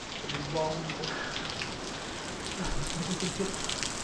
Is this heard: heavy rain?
yes